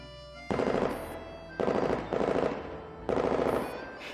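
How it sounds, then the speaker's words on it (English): Three bursts of rapid automatic gunfire from the video game Girls' Frontline, loud and close, each lasting about a second with short gaps between, sounding like game-style weapon effects. "A series of gunshots ring out."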